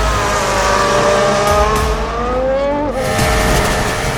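A racing car at full throttle screams loud and close, its engine pitch climbing steadily through the gears over continuous roaring noise.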